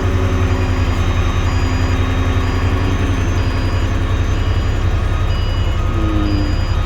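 A concrete mixer truck engine runs at a steady, loud idle after starting, a constant low diesel rumble with no break across the whole stretch.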